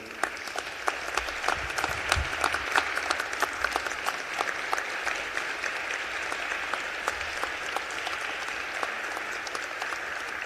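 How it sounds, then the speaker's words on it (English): Sustained applause from a large audience at the 102nd Illinois General Assembly, dense steady clapping that fills the whole stretch without a break. "I want to give him another round of applause here today"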